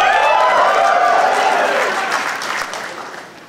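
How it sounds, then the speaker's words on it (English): Audience applause at a PAX 2010 gaming convention panel for Bungie, a loud, steady burst of many hands clapping with crowd noise that fades toward the end. "Are you done applauding?"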